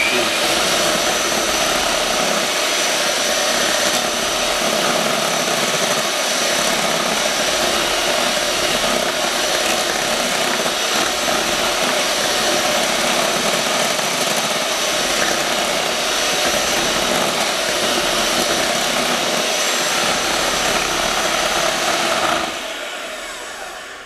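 A steady, loud electric hand mixer whine with a broadband motor buzz, beating a veggie dip, runs continuously for over twenty seconds, then cuts off abruptly near the end.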